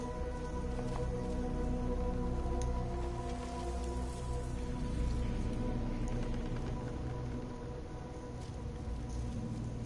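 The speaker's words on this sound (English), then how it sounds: "I'm not sure if anyone can hear the rain outside." Steady rain falls outside an open window, a constant soft hiss of drops with a low rumbling bed, even and unbroken throughout with no voices.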